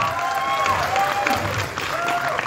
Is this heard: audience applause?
yes